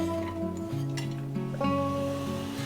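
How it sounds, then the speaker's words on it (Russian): Chopped onion sizzles in a couple of tablespoons of vegetable oil in a hot frying pan while being stirred, with a steady crackle, faint utensil scrapes and a tonal hum beneath. "Лук пассерую, помешивая какую-то 1 минуту"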